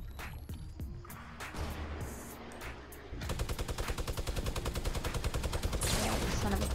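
Gunfire in Fortnite: a few scattered single shots, then a sustained rapid automatic burst that keeps up loud and close to the end, with faint voices in the background.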